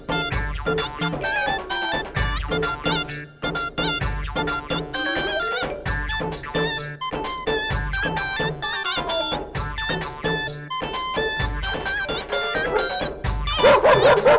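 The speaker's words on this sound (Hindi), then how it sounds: "हे भगवान, ये कुत्ता कहाँ से आ गया?" A cartoon dog yaps and barks in a garden over a busy, rhythmic music track, the barks short and repeated in quick bursts, sometimes whimpering, all loud and close.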